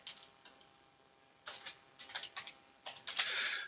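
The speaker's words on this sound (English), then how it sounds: "I'll just type in a name here." Keys tapped on a computer keyboard in short irregular bursts, a few isolated clicks followed by quicker clusters of keystrokes, close and fairly clear in a quiet room.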